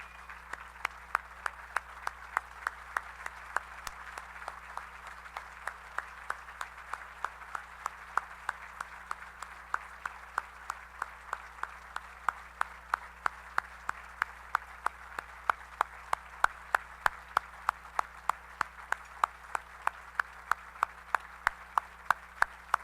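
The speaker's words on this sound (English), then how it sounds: "Please join me in a round of applause." Steady audience applause at a Sagamore of the Wabash award ceremony, a moderate sustained patter of many hands with a few sharper nearby claps standing out in a regular beat throughout.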